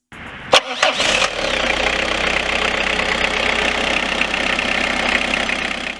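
A Citroen ZX 1.9D engine, an XUD-series diesel, cranks with a few sharp bursts, catches, and settles into a steady, clattering diesel idle that continues without a break.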